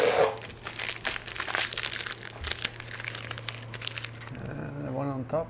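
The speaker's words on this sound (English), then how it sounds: "Oh, peeling tape. It's kind of satisfying." Tape peels off a Land Rover Discovery 3/4 (LR3/4) during a gullwing installation, a close crinkling strip sound at the start followed by softer rustling, with a person talking over it.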